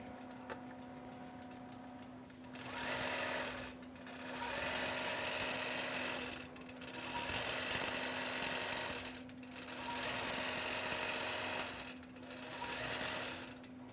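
Computerized quilting machine stitching out a game board quilt block square by square, its steady mechanical chatter running in four sustained bursts separated by short pauses, close and moderately loud with no talking.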